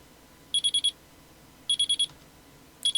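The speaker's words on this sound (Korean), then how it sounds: "알람 소리가 들린다. 단조롭고 규칙적이며 한결같이 듣기 싫은 소리다." An electronic alarm clock rings in three bursts of four quick, high-pitched beeps, evenly spaced, with quiet gaps between bursts.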